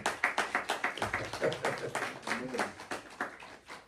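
A church congregation claps in quick rhythmic bursts during a French-language service, the claps steady and fairly close with voices mixed in.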